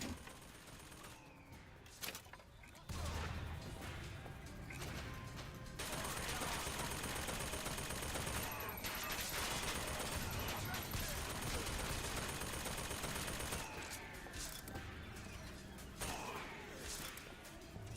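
An automated turret in the video game Bioshock Infinite lets off sustained rapid gunfire for several seconds, dense and loud, then tapers off.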